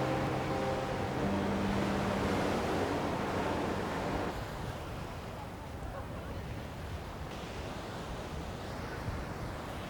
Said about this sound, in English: So at Bingin, it's quite a crowded beach.